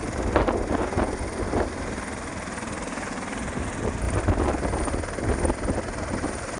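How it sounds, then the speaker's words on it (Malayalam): Helicopter, flown in from Chalakudy, Thrissur, coming down to land at a film shooting location in Palakkad: a steady, loud rotor roar with rumble and wind buffeting, continuous throughout with no voices. "അതിലൊരു ഹെലികോപ്റ്റർ വന്നിറങ്ങുന്ന കാഴ്ചയാണിത്."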